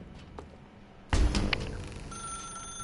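A telephone rings inside a dark room in the Stanley Parable video game, a clear bright ring kicking in sharply after a quiet lead-in and sustaining with a steady tone to the end.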